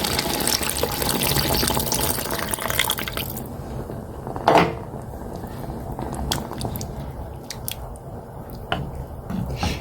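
Water is poured into a pan of spiced pasta sauce, a splashing gush up front that settles into softer dripping and liquid sounds, with a sharp clatter midway and faint kitchen noises after.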